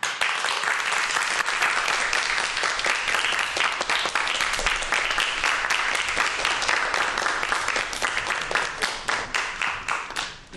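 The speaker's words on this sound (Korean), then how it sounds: "박수 부탁드립니다." Audience applause welcomes a lecturer to the stage at a talk on migratory birds. The clapping is full and steady for about ten seconds, then thins out at the end.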